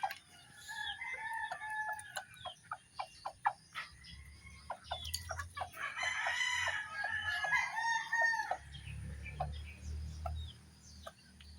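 Farmyard chickens being fed moths cluck in quick, busy bursts, with a rooster crowing nearby in the middle and low rumbling noise underneath.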